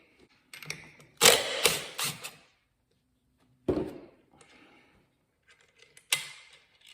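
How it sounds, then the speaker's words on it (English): A ratchet with a deep 12 mm socket works a bolt loose on a Suzuki DRZ400 engine during teardown. Bursts of quick close clicking are separated by short pauses and a final shorter burst. "I need a deep socket to take this bolt out of here"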